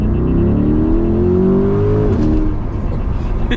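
Engine of a 2023 C8 Corvette pulling hard under acceleration, a loud continuous drone with rising harmonics that climb steadily for about two seconds, then shift and settle into a rougher, steadier roar from inside the car.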